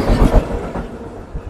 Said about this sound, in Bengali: 2 নম্বর লাইন দিয়ে ট্রেন ইঞ্জিন পাস করলো।